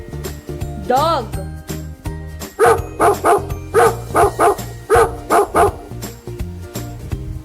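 A dog barks in a rapid series of sharp, loud, close barks after an earlier single whine-like call, all over a background music track with a tinkling beat.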